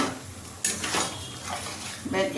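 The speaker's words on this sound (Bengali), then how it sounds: "এবারে মশলাটা একটু বেগুনটা নেড়ে ছেড়ে নিতে হবে যাতে মশলাটা পুরো গায়ে লাগে" Fried eggplant is stirred through a spice masala in a pan, giving a few scraping, clattering bursts of spoon against metal over a low background.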